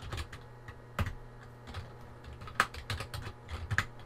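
Computer keyboard typing as a name is entered during a Manjaro Linux setup in VirtualBox, irregular quiet clicks in short bursts with a few sharper key strikes, close and unaccompanied by talk.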